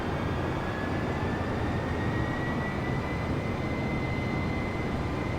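Steady, loud jet engine drone of an Airbus A320 in Microsoft Flight Simulator, a broad even roar with a faint high whine running unbroken throughout, no voices.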